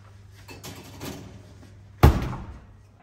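A blast chiller door shuts with one solid thud after a cake is loaded, preceded by faint kitchen rustling and soft knocks.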